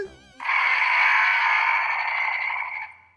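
A Playmates Monsterverse Mechagodzilla figure's electronic battle roar plays loud and sustained for nearly three seconds, a harsh synthetic bellow that fades at the end after a brief mechanical click.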